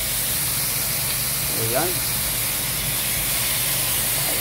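Pork adobo fries in a pan with sauce in a home kitchen, giving a loud, steady sizzling hiss throughout, with a man's brief speech in Filipino over it.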